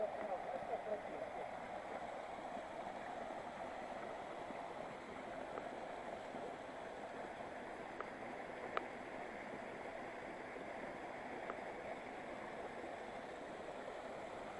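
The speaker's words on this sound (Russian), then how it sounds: "красивый водопад." Steady roar of a waterfall on the Kamenistaya river in a canyon, a continuous broadband rush of falling water filling the whole stretch without pause.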